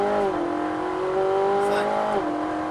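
A Ferrari 458 Italia accelerating out of a corner on a race circuit, the engine note climbing steadily through the revs, dropping at a gear change and rising again, loud and close from inside the car.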